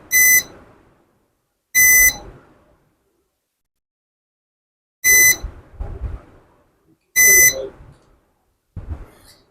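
Short shrill continuity beeps come from a multimeter checking capacitors on a Samsung SM-A125 phone board. There are four close, clear tones at uneven intervals, with faint tapping of the probes between them.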